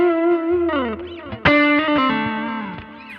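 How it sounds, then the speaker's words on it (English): An electric guitar played through an amp with overdrive and delay plays a sustained lead line with sliding, bending notes and a sharp attack partway through, ringing out with echoing trails, close and alone. "it's just a lead tone. It's this back through my guitar amp again on the original path, but with an overdrive and some delay kicked in."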